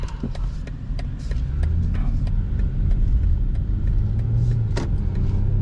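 A 2024 BMW 540i xDrive executive sedan with the B58 engine cruises along, its steady low cabin rumble and road noise continuous throughout, with a few faint clicks and knocks scattered on top.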